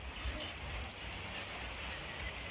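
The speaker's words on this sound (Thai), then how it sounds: "ก็ฝนตกนะ" Steady rain falls over rural rice paddies at planting time, a dense even hiss with faint scattered drops, constant and close, with no voices.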